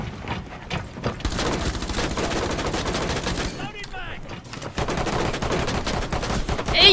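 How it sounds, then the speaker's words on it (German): Loud, close automatic gunfire rattles in rapid bursts in the tactical shooter Rainbow Six Siege. Sustained volleys fill most of the stretch, broken by a short lull in the middle before the shooting resumes. "Ich schieße auf seine Füße!"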